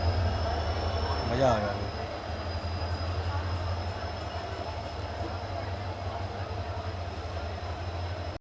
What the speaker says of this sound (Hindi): सामने से आ चुकी है फिरोजपुर कैंट बठिंडा पैसेंजर